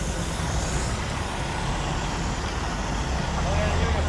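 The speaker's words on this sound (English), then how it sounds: "Right now we're filling up some dump trucks." Dump trucks idle and work at a construction site while being filled. A continuous low diesel rumble and machinery noise run throughout, growing slightly louder toward the end.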